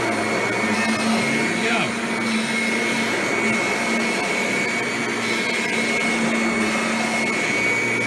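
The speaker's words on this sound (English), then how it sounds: "It's very normal for these Kirbys to make that noise from the transmission" A Kirby G6 2001 Limited Edition upright vacuum cleaner runs steadily with a constant motor whine and hum throughout, transmission noise included, a brief spoken phrase near the start.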